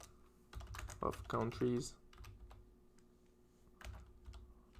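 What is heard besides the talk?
typing on a computer keyboard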